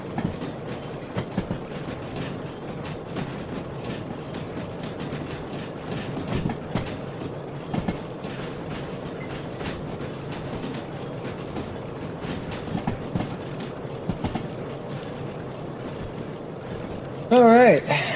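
An S060 locomotive in the video game Derail Valley rolls steadily along the rails, a continuous rumble broken by rhythmic clickety-clack wheel knocks, with faint talk over it.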